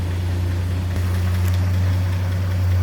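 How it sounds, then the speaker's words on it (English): Engine of a 1953 Chevrolet C3600 pickup idling, a steady, smooth low rumble with an even hum, close and continuous throughout. "see how smooth that engine runs and get a listen to it here in a second."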